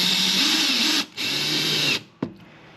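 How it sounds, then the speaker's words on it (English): Power drill boring pilot holes into a Recon 120 kayak, two loud sustained whirring bursts of about a second each, separated by a short pause, then a quick sharp final blip, close and alone. "you just drill a little pilot hole where those go"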